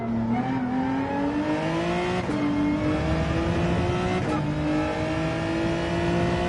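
A Gran Turismo 7 Gr3 race car accelerates out of a corner at Suzuka, its engine note climbing steadily through two upshifts, loud and close, with no talk.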